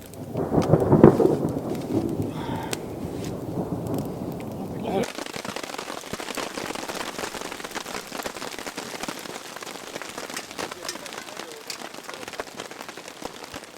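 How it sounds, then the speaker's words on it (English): A storm opens with a low, rolling rumble of thunder. Then a dense, heavy downpour takes over, a steady hiss of rain pattering hard on surfaces for the rest of the clip. "What we thought was the start of better weather was just a break in between downpours."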